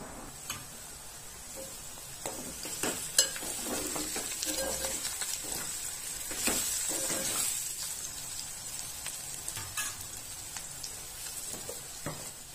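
Bitter gourd frying in a pan on a stove over a low flame, giving a steady soft sizzle with scattered clicks and ticks from stirring, fairly quiet and with no talk.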